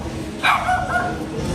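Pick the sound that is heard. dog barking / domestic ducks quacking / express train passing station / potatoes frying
dog barking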